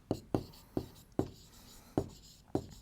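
Pen or chalk strikes while writing out a maths answer: six sharp, separate taps and short strokes at an uneven pace, close and fairly quiet, with no talking.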